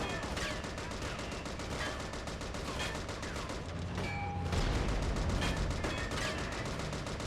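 A gun mounted on a 4x4 vehicle fires in a World War II beach assault game, with steady rapid bursts of moderate loudness, a short gap, then heavier fire and engine rumble.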